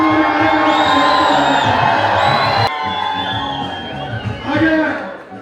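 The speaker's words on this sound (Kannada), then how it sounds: "ಜೋರದ ಚಪ್ಪಾಳೆ ಮುಖೇನ" Loud cheering and applause from a big crowd at a temple inauguration attended by Karnataka's chief minister, a continuous roar of shouts, whoops and clapping close by, dipping slightly midway then surging again.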